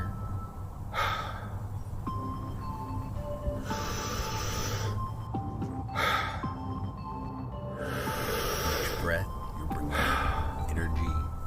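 Deep breathing during a guided meditation: several slow, audible inhales and exhales come in a steady cycle, close and breathy, over a low droning background.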